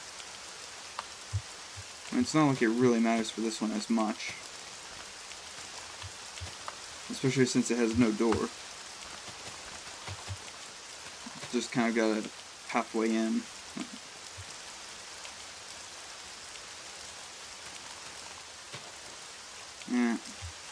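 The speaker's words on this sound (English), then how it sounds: "I don't like this rain though." Steady rain falling in the block-building game TerraFirmaCraft, a continuous soft hiss underneath someone talking intermittently.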